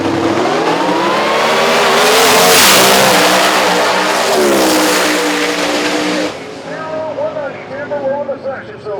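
A radial drag race car builds boost and launches down the strip, its engine a loud, sustained roar that climbs in pitch, with a commentator talking over it before the roar fades into the distance.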